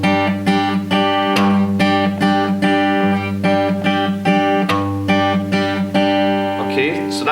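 Acoustic guitar in open G picks a repeating intro rhythm on the bottom strings, with steady plucked notes ringing over a sustained low drone. It plays close and loud for several seconds, with no talking.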